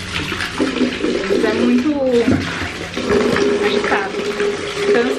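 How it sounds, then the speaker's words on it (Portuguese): Water poured into a drinking bowl for dogs at home, a loud continuous splashing flow close by, with a person talking briefly over it. "Vou colocar aqui um pouquinho de água pra eles"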